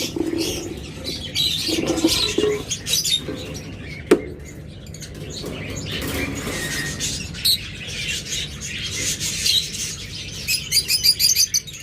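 Small yellow caged pet birds chirping and tweeting nearby, with quick repeated high calls in bursts over a steady background hum.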